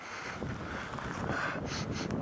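Steady wind buffeting the microphone, a broad rushing roar with gusty swells and no voices.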